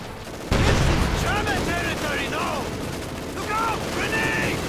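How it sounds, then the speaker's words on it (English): A heavy grenade blast and scattered gunfire in the Company of Heroes 2 strategy game hit suddenly and stay loud. Battlefield rumble and tonal unit voices run underneath. "A swift grenade."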